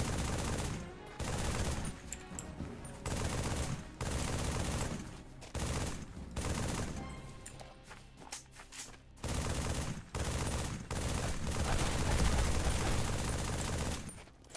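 SMG fire in Halo 3, rapid automatic bursts in repeated strings separated by brief pauses, loud and close, with a few short gaps between volleys.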